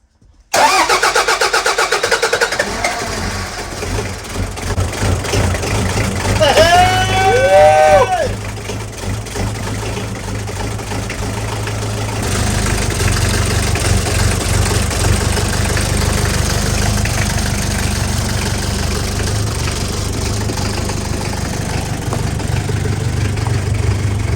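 A Toyota Prado 1KZ-TE diesel engine with a newly fitted cylinder head cranks briefly with a whirring starter, catches loudly, then settles into a steady, rough, clattering idle that runs on close by.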